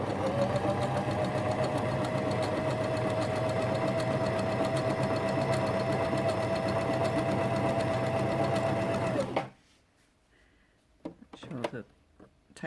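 A Janome FD206 or RE1306 sewing machine stitching a picket edge stitch runs at a steady, even mechanical hum and whir for about nine seconds, then stops abruptly, leaving quiet handling clicks.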